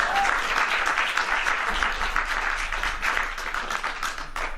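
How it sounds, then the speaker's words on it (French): An audience at an economics lecture applauds a participant, a lively burst of many people clapping close by, steady for a few seconds and then gradually thinning out. "Allez, on l'applaudit s'il vous plaît."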